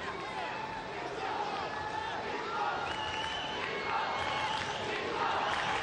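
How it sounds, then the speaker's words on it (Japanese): Japanese supporters cheer at a 1995 Umbro Cup football match against Brazil at Goodison Park in Liverpool, a steady roar of crowd voices carrying through a large stadium, with a commentator's voice running over it. "このグリソンパーク、日本の歓声が湧き上がりました。"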